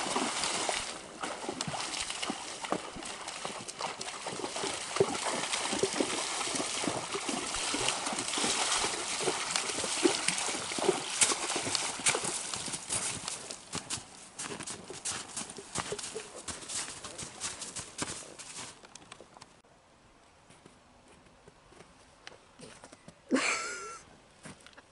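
A Quarter Horse gelding's hooves clop and splash through water in a steady walking rhythm for a long stretch, then the sloshing stops and it goes quieter.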